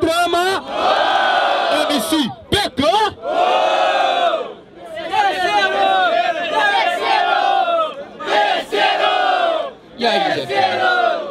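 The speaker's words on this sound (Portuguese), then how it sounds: "Barulho quem gostou da rima do freestyle do MC PK" Rap battle crowd at an outdoor freestyle competition in Belo Horizonte, loudly cheering, shouting and whooping in sustained waves with brief dips, dense and near.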